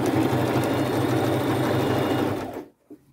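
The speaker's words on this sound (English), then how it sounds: "all I'm going to do is overlap this and then stitch it together" A sewing machine stitches overlapped denim on upcycled jeans in a fast steady mechanical whir, loud and close, then stops abruptly near the end, leaving a brief faint clunk.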